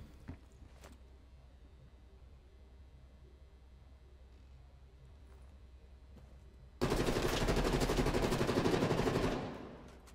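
Sustained automatic gunfire in Call of Duty bursts in loudly after a quiet stretch of faint ambient game noise, rattling in a rapid continuous stream for over two seconds before tapering off.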